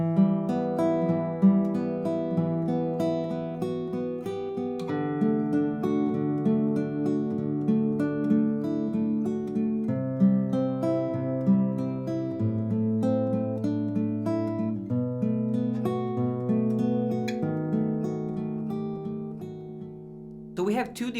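A guitar fingerpicks a simple Spanish melody within the chords, using a repeating picking pattern of steady plucked notes and bass lines over about twenty seconds, close and clear with no talking.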